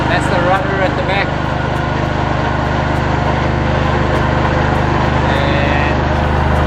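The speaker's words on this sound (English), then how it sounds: "the generator making a lot of noise over there." A generator aboard a sailing yacht drones with a steady, even, loud hum that fills the space, and a voice is heard over it.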